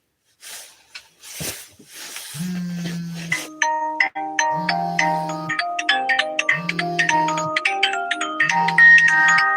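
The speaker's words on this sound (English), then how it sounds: "I gotta take this phone call" A phone rings with an incoming call: a melodic ringtone of bright, repeating note patterns, loud and close, that keeps cycling after a few faint noises at the start.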